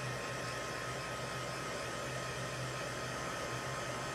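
A hair dryer blows steadily and evenly close by, drying paint on a shirt, a constant whooshing roar with no pauses and no talking.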